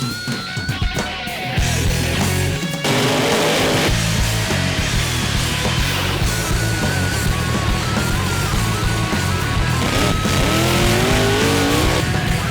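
A small-block-powered Jaguar drag car launches at the Southern Nationals with a short tire chirp, then its engine roars loudly and steadily through the run, its pitch rising through the gears.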